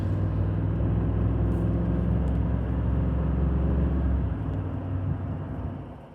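Steady low rumble of a Ford 7.3 Godzilla V8 pickup engine towing a trailer loaded with concrete, droning continuously at close range before easing off slightly near the end.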